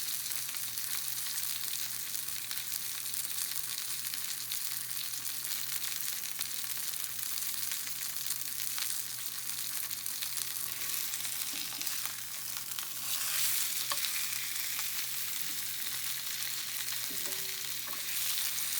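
Steak frying in a hot pan, a steady loud sizzle with constant spitting and crackling that continues unbroken, close up, with a few small clinks near the end.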